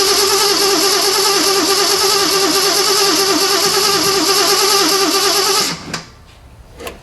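An AMC 304 V8 in an AMX with a freshly worked carburetor runs loud and steady after firing up, a rough rumbling idle that continues close up before cutting off abruptly near the end, leaving quiet.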